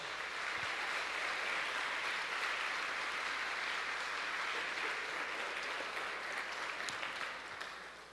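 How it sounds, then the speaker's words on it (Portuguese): Church congregation applauding loudly and steadily in praise during a service, a dense, sustained wash of clapping that fills the room and tapers slightly at the end. "Vamos aplaudir a Jesus bem forte"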